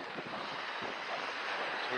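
Strong wind buffeting the microphone at a seaside fishing spot, a steady broadband roar that rises slightly toward the end, with no voices.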